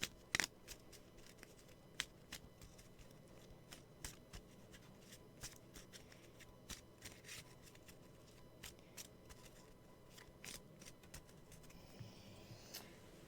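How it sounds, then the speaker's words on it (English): Cards being shuffled during a Zombicide board game: a steady run of soft riffling clicks and flutters, with a few sharper snaps, close and fairly quiet, no talking. "we're going to shuffle the cards"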